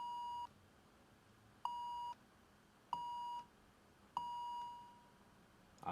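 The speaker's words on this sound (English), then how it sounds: "when I raise the release time, that means it's going to take longer for the sound to go back to 0 on release." Four quiet, clean sine-like synth notes from Ableton's Operator sound one after another at a single pitch. The last note fades out gradually instead of cutting off, giving it a longer release tail.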